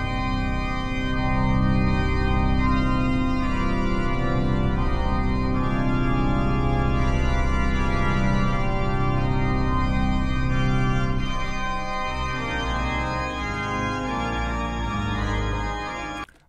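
Recorded pipe organ music plays back, full and sustained with chords over a deep pedal line, a wrong pedal note sounding in the bass, running loud and steady before it cuts off.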